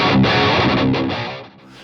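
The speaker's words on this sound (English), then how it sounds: "And it can also do full-on brutal high gain tones." A Victory V130 Super Countess amp at brutal high gain, a dense distorted electric guitar chord riff that rings loud and thick, then trails off into sustain, heard alone.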